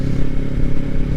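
Kawasaki Ninja 400 motorcycle engine droning steadily at riding speed, a loud, continuous low hum with wind rumble and no voices.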